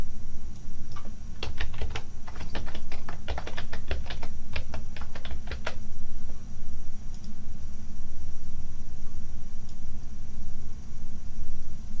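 Rapid clicking of keys on a computer keyboard, close and steady for several seconds, then stopping, leaving only a steady background hum.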